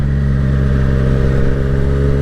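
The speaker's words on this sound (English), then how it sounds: "the exhaust only really starts to make some noise when you open it up" A 2020 Triumph Street Triple 765 RS motorcycle exhaust opened up, giving a loud, steady, close engine drone with a strong low rumble and throttle held hard.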